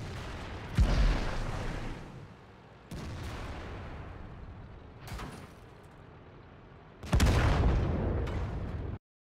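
Artillery shells land in a video game as several heavy booming impacts, each followed by a sustained roar, the last one loudest, against a constant background rumble.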